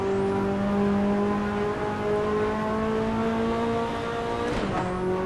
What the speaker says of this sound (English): Foot hard down on the accelerator there.